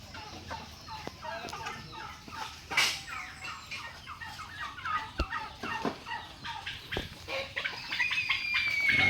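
A flock of turkeys and chickens on a farm, with repeated bubbling gobbles and clucks mixed with occasional crowing, a busy, continuous chorus at moderate distance and no talking.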